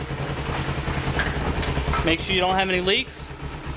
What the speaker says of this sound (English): start the motorcycle to make sure everything works.